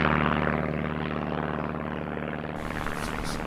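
A cartoon airplane carrying an elf roars through a Christmas light projection show on a town hall facade, a loud continuous engine drone holding steady for several seconds with no talk.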